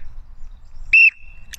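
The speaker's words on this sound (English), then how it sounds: "So we're going to try a simple whistle command, which should result in him coming back." A shrill recall whistle used in training a Malinois dog gives one short sharp blast trailing into a thin held tone, followed by a brief second chirp, loud and close over quiet outdoor background.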